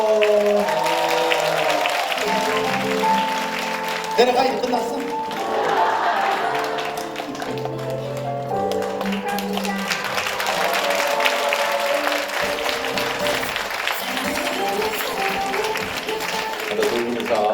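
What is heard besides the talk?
audience applause after a couple's kiss on stage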